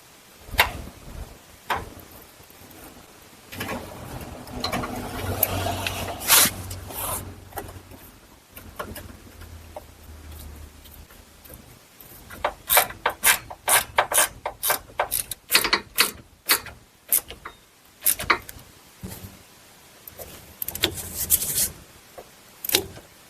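A bolt threaded and tightened on a car's steering rack intermediate shaft during a GM 4T65-E transmission install in a Buick Lucerne, Grand Prix or Impala: scattered clicks and mechanical rubbing, then a run of sharp ratchet-like ticks, all fairly close.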